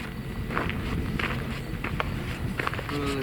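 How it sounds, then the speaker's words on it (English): Small footsteps patter in a ghost box session recording, several quick light steps close by over a constant hiss and rumble of background noise. "Those little footsteps."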